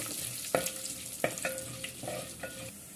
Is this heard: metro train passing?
no